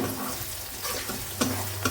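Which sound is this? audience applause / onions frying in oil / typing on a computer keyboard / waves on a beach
onions frying in oil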